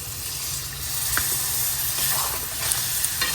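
Mola fish masala with ground cumin, coriander and a splash of water being stir-fried in a pan, a steady broadband sizzle with occasional scraping stirs, close and continuous with no voices.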